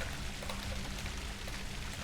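A waterfall in an adventure video game: a steady, dense rush of falling water, loud and continuous throughout, with no talking over it.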